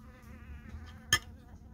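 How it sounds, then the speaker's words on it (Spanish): Faint, brief buzzing of a bee hovering around food in a garden, a thin steady whine over quiet background with one short sharp tick. "Ya llegó la abeja a comer también."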